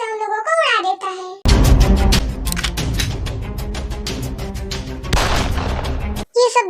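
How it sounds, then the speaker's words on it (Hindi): Gunshots fired at people in a movie scene: a dense burst of loud, sharp shots lasting several seconds, set between brief bits of dramatic sound and voice. "सुगा अपनी गन से उन लोगों को उड़ा देता है"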